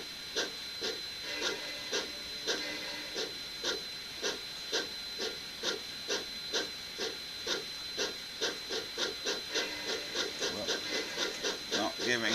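An N gauge model steam locomotive, a Jubilee class named Trafalgar, runs on a layout, giving a steady, rapid series of faint clicking rail beats with a light hiss and no talk.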